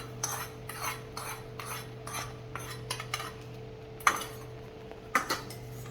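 A spoon stirs fried edible gum through a sweet modak filling in a pan, giving soft repeated scraping strokes with a couple of sharper clinks against the metal, over a steady low hum.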